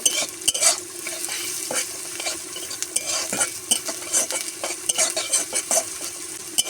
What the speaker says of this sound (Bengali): পেঁয়াজ কুচিটা দিয়ে এইভাবে নেড়ে চেড়ে আমি খুব সুন্দর মতো করে পেঁয়াজটাও ব্রাউন কালার করে নেব